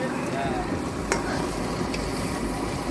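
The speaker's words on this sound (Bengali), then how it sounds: "এবার কাঁকড়া চলে যাবে কড়াইতে" Crab pieces sizzle steadily in a hot wok, a dense continuous frying hiss with a few brief scrapes of stirring, close and loud with no talking.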